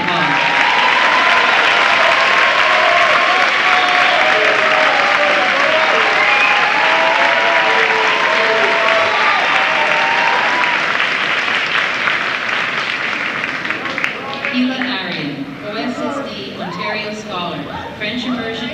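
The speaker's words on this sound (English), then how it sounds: "Now you can applaud." Audience applause for graduates at a ceremony, a loud, dense, sustained round of clapping from a large crowd that thins toward the end as a voice comes in.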